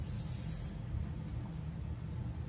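A GSI Creos airbrush sprays paint in a steady soft hiss with a faint airy rush, continuous and close, with no voices.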